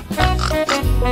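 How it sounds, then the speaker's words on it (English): A pig oinks and grunts in a quick pair of snorts, loud and close, over a background of music. "Pig."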